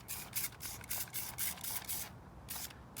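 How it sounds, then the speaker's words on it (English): A series of short, hissing spritzes from a spray bottle spraying bleach onto a napkin, close up, repeated in a quick uneven rhythm with brief gaps. "we're just gonna spray over the part of the napkin that we put the hot glue on"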